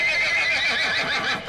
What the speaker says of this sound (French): Ça se peut-tu que c'est le cheval pas de tête, là?